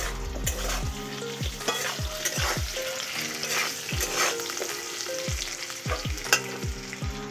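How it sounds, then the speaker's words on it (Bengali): Salted potatoes fry in oil, a continuous sizzle punctuated by repeated knocking stirs and spatula scrapes at an irregular rhythm, close-up and fairly quiet, with no speech. "এবার আমি যেই তেলটা আছে ওতেই আমি আলুগুলোকে ভেজে নেব।"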